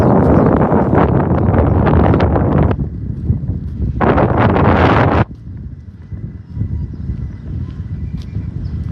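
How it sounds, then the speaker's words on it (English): Heavy wind on a beach in North Naples, Florida buffets the microphone in loud roaring bursts, dropping briefly and returning, with quieter gusty rumble between. "it's super windy out here"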